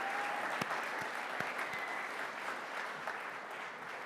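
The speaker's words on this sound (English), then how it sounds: "Let's please give another very large round of applause for all of our recipients." Audience at an alumni achievement awards ceremony applauding the recipients, a soft, steady roll of many hands heard from a distance with a few sharper individual claps standing out.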